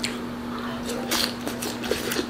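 Crunchy sweet and sour pork (tangsuyuk) being bitten and chewed, several faint, close, crisp crunches in an irregular run against a quiet background.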